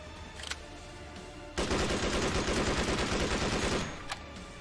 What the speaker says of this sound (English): The German Sturmgewehr 44 with animations from Adin.